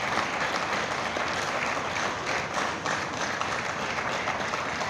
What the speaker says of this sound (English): we shall all stand up in honor of the late BMK as we clap for a